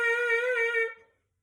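A lip buzz played into a detached trumpet mouthpiece gives one steady, bright, reedy tone held for just under a second before it cuts off, loud and close with no talking.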